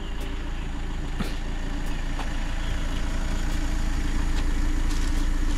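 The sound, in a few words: shuttle van engine idling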